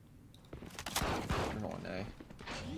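Gunfire in the tactical shooter Valorant, a short burst of rapid shots over game sounds, with people talking over it.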